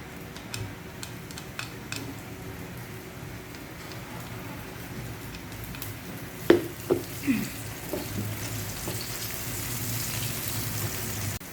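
Onions sizzling in a hot pan while cooking shrimp with tomato, a steady crackling fry with a few sharper pops and stirring clicks partway through, close and moderately loud with no talking.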